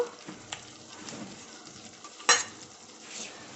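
Cabbage with spices frying in a pan for a Bengali cabbage ghonto with fish head, a low steady sizzle with soft scraping stirs and one sharp clatter of the spatula against the pan.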